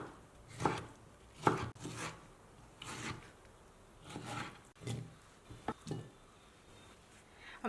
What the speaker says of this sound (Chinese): 把它给切成片，然后呢，给它切成条